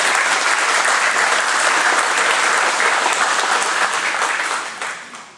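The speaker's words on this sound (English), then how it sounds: "let's give them a round of applause" Audience applause at an auto racing hall of fame induction ceremony, a full, dense burst of many hands clapping at steady loudness that fades out over the final second.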